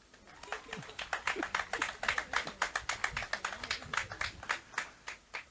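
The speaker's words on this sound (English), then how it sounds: "You can clap for yourselves." Audience clapping at a speech at Academic City University College, a loose burst of fairly sparse, individual claps from a modest crowd that thins out toward the end.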